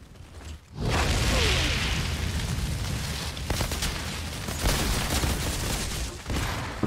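Gunfire in the video game Outriders: a dense, sustained burst of rapid shots and booming blasts that roars in after a brief quiet and stays loud for several seconds, with mechanical clatter layered through the barrage.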